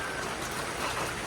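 Steady rain pours onto a flooded street at night, a dense, continuous hiss of drops striking water and pavement with no pauses, close and fairly loud.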